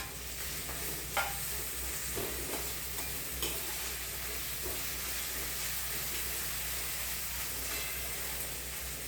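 Pasta ingredients sauté in oil in a pan, a faint, even sizzle and hiss with occasional light stirring scrapes, and no talking.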